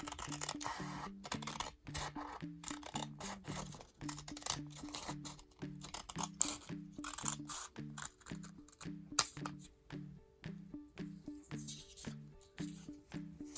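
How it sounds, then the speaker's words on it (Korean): Scissors snip through three stacked sheets of folded colored paper with repeated close rasping cuts, steady and rhythmic, over a faint low background hum. "지금 접은 선을 가위로 세 장 동시에 자를게요."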